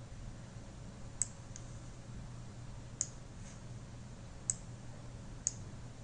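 Four sharp, quiet computer mouse clicks spaced about a second or more apart, heard alone over a faint steady background hum while branches are edited in mind-mapping software.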